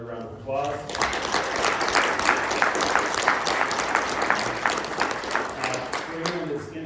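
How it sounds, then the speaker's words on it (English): An audience at a city council candidates' forum applauds the candidates, a sustained round of clapping that starts abruptly after a brief voice, holds steady, then fades as talk resumes. "let's give them another round of applause"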